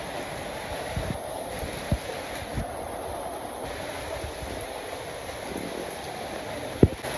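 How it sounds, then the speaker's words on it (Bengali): Rain falls outside beside a vegetable plot, a soft, steady hiss of drops on surfaces with a few sharp knocks and taps standing out over the constant wash. "পাশে যে বৃষ্টি পড়তেছে"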